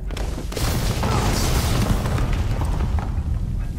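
A sustained, loud, rumbling explosion in Assassin's Creed Syndicate fills the whole stretch as a dense, broadband roar with debris-like crackle, close and overwhelming, with no voices.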